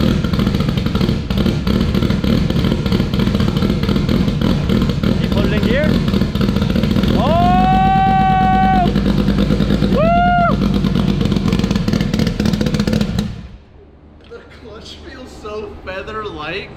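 A stock motorcycle engine rumbles loudly and steadily as the bike is driven forward and back, with people talking over it, until the engine noise drops away near the end.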